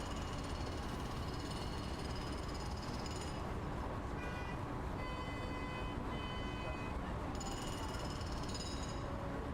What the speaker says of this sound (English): Alright, so there's a train coming.